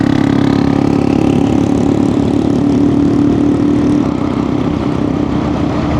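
A Royal Enfield Hunter 350 motorcycle engine runs with a close, steady thrumming putter as riders set off, easing slightly quieter partway through, with no talking.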